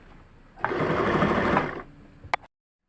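A sewing machine stitching around a blouse sleeve gives one close, steady mechanical whir of under two seconds, then a brief click as it stops.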